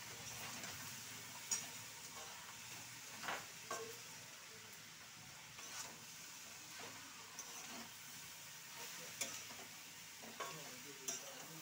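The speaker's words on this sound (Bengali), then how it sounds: "এবার আমি এটাকে একটু নাড়বো।" Chili powder being stirred in a frying pan, a soft steady sizzle with repeated scraping strokes of a spoon every second or two, fairly quiet and close.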